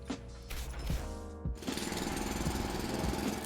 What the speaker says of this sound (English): A shaft drilling machine.